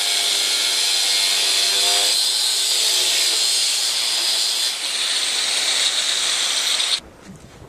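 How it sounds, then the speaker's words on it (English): A Franken grinder runs against a surface during a Dragonslayer build, giving a loud, hissing, high-pitched grind that holds steady for about seven seconds before cutting off abruptly. "Using the Franken grinder to get the last part"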